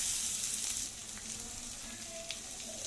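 Boiled potato pieces, cut small, hit a hot frying pan and sizzle loudly and steadily at close range, with a faint stir or two near the end and no talk.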